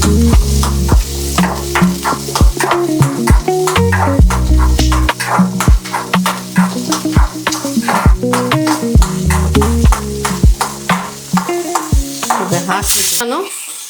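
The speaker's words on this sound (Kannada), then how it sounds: "ಆನಿಯನ್ ಹಾಕ್ತಿದ್ದೇನೆ." Onion frying and sizzling in a pan for tapioca pulimunchi, with loud, close, rhythmic scrapes and clanks of stirring over a continuous sizzle.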